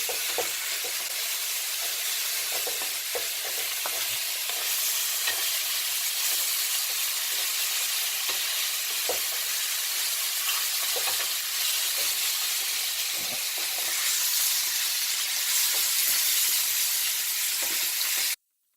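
Vegetables for shakshuka frying in a pan, a steady loud sizzle and hiss running throughout with faint scraping ticks, close up and with no voices.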